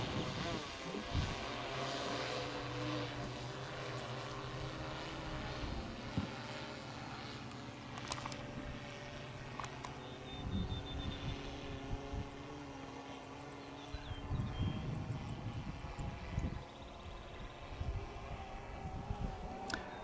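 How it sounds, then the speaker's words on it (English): A survey drone flying an autonomous route over an 8-acre field, its steady propeller hum droning continuously at a moderate distance, with scattered handling noises and faint background activity. "the drone will actually move autonomously to the start point, and it'll fly the route"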